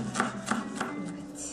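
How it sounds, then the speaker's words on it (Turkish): A knife chops fresh whole mint leaves on a board in a few soft, even strokes, close by and moderately quiet. "Nane çok taze olduğu için yaprakları ayırmadan doğruyoruz."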